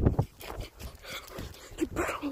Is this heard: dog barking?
yes